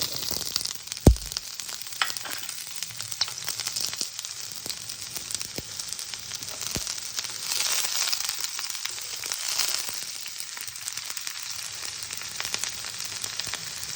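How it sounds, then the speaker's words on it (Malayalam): Chopped onion and curry leaves fry in coconut oil in a hot pan, a continuous soft crackling sizzle with occasional spatters and a few utensil knocks, close and fairly quiet, no voices. "പാൻ ചൂടായപ്പോൾ വെളിച്ചെണ്ണ ഒഴിച്ചു കൊടുക്കുകയാണ് പിന്നെ നമ്മൾ ചെറുതായിട്ട് അരിഞ്ഞെടുത്തിരിക്കുന്ന ഒരു സവാള പിന്നെ വേപ്പല"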